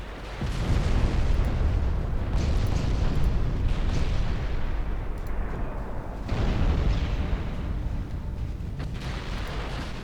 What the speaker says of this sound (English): Got 9 torpedo hits out of that opening volley.